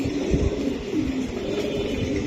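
A female Johnson bloodline racing pigeon coos in soft, repeated low pulses, close by, over a constant hum of other birds in the loft.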